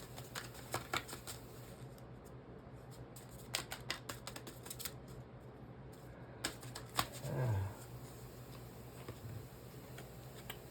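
Tarot cards being shuffled and drawn, a soft run of light flicks and taps at close range over a quiet steady hum, with a faint brief rustle near the end.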